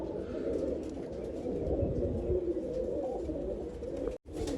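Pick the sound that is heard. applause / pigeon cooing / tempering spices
pigeon cooing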